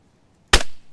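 A single sharp gunshot in the video game DayZ cracks out loudly after a moment of near silence, then decays quickly.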